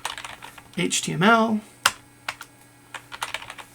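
Code is typed on a computer keyboard: a short spoken word comes first, then a few sharp, separate key clicks follow in an uneven rhythm, close and fairly crisp.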